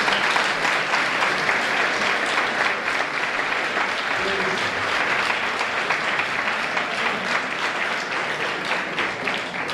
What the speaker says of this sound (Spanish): Un aplauso para ti, de verdad.